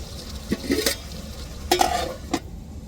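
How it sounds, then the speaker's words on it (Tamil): Masala vadas stirred in a frying pan of hot oil: a few scraping stirs and clinks over a steady soft sizzle, close up, with no talking. "இப்போ அப்படியே கிண்டி விட்டு கட்டை போட்டு மூடி விடுவோம்"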